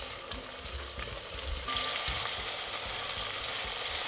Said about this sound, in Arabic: وضيف عليه البصل وقلبهم. ولما يدبل البصل بزيد فوقهم الفليفلة الملونة وبقلبهم مع بعض.